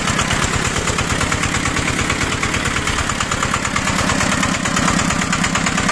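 A 12 hp diesel walk-behind tractor engine idles steadily up close, a loud, even knocking chug that runs unbroken with no voices.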